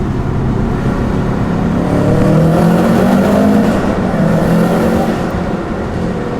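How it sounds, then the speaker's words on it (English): A 2013 Subaru STI drives through a tunnel, its engine and tire roar steady, loud and close, swelling a little midway and echoing off the enclosed walls. "We're just a normal car driving through a tunnel"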